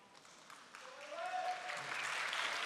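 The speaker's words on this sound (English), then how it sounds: "We request that you demonstrate your appreciation for each graduate with appropriate applause at this time." Applause from a high school graduation crowd building steadily and swelling louder toward the end, a broad wash of clapping with a faint voice underneath.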